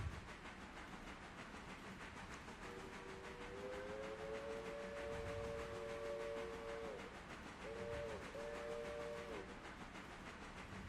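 A passenger train climbing a grade in the Railroader video game, set in rain, sounds a long two-tone steam-style whistle, then two shorter blasts, over a steady rumbling rolling noise.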